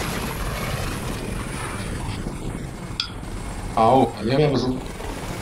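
An attacking helicopter in the video game Crysis keeps up a droning rotor and engine noise beneath a man's fast chatter, with a few brief louder bursts of game action near the end.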